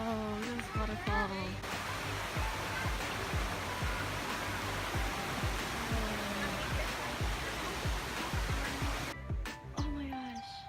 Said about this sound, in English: Oh, this waterfall.